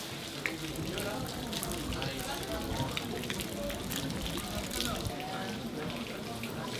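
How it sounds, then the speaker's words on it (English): Rain falls steadily in a Kyoto Zen temple rock garden, a dense even hiss of drops that stays constant, with faint voices talking underneath. "Especially with the rain, it's really relaxing."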